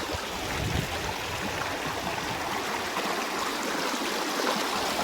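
Water of the Narmada river flows in a steady, dense rushing wash, close and continuous, with no pauses or voices.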